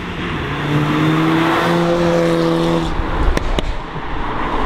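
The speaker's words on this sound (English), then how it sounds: "it doesn't really want to get traction, but it really struggled to get traction then" Car accelerating hard on a wet road, struggling for traction, its engine rising loud and close in a sustained roar, with a small exhaust pop near the end.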